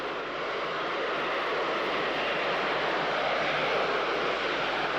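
The Short Brothers and Harland SC-1 Delta VTOL research aircraft runs its jet engines in a loud, steady, unbroken roar that stays even from start to finish.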